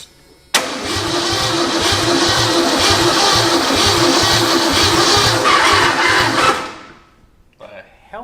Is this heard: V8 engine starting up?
yes